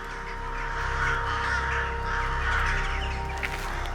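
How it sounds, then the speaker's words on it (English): Crows cawing harshly and repeatedly in a wild setting, several loud calls overlapping against a steady background hum, with no talking. "These crows are not about to stay and pick a fight."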